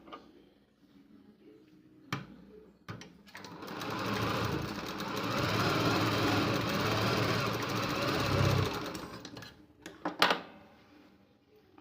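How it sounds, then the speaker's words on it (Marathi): A sewing machine stitches tucks into a blouse in a long steady run of rapid mechanical chatter lasting several seconds, framed by brief clicks and handling knocks before and after, close and fairly loud with no talking. "आता मी दुसरा पण डाच मारून घेत आहे."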